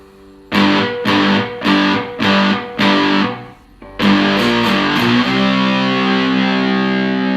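Five loud distorted chords on a cigar box guitar with a single-coil pickup strike in a steady rhythm, then a flurry of quick strums gives way to one long ringing, fuzzy chord.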